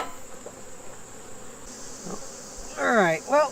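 Honey bees buzz around an opened hive, agitated after one was crushed, with a steady high drone close by and a brief burst of louder buzzing near the end.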